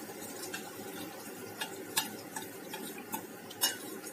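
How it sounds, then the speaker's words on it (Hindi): Water is poured into a pot of besan pakodi gravy and stirred, giving soft liquid swishing and faint scraping with a few sharper clinks of a spoon against the metal pot, steady and close, with no talk. "तो अब मैं इसमें डाल दूंगी पानी।"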